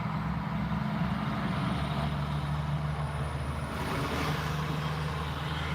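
An older Volvo truck rolls past outdoors on a rainy afternoon, a steady loud engine rumble and road roar holding throughout with no talk.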